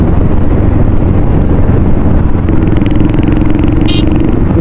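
Motorcycle engines of a Hero Splendor and a Hunter running close by, a steady loud drone with a second engine note joining partway through, continuous with no talk.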